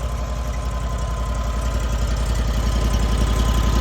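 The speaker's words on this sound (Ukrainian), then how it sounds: "Ось так тихенько працює, запускається стартер є, електростартер." The small Honda petrol engine of a two-rotor power trowel idles steadily and quietly, a low even rumble with a soft rhythmic knock, close by and with no talk.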